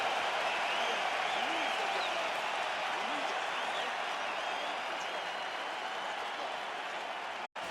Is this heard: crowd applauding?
yes